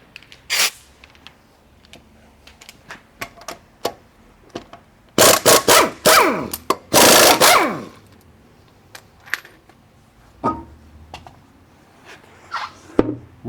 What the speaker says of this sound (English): Next we'll pop the hubcaps off and